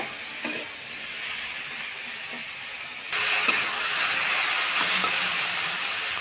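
Pumpkin frying in its own juices in a pan with no added water, giving a steady close hiss and sizzle with occasional faint stirring scrapes, growing a little louder partway through.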